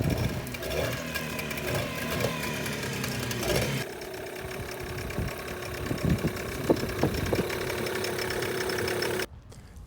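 A two-stroke 15 horsepower Yamaha outboard boat engine runs steadily with a rattling, buzzy idle, shifting to a lower chugging rhythm partway through before cutting off abruptly.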